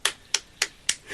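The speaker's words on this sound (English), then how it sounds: "This is me clapping." Four sharp hand claps at an even, unhurried pace, crisp and close, followed by the start of a fifth.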